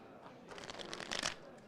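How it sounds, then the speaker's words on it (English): A deck of playing cards is riffle-shuffled into one pack close by, a soft rapid fluttering that swells briefly and then stops, with no one talking. "And now I'm going to shuffle it all into one pack."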